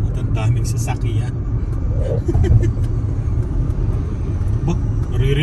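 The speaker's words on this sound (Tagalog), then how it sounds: "At ang daming sasakyan." Road traffic on a bridge in Vancouver rumbles continuously nearby, a steady wash of passing car and engine noise, with people talking over it.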